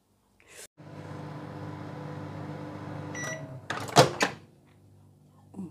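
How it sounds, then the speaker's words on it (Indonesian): A microwave oven warming coconut milk in a kitchen: a steady close hum runs for about three seconds, then the door opens with loud clunks and a brief beep before the hum fades. "Ini saya panasin sedikit di microwave ya."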